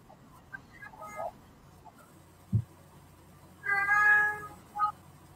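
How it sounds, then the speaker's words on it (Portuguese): A cat meows several times: a couple of short calls first, then a longer drawn-out meow and a final brief one, close and clear over a quiet room. "Tem um gato aí."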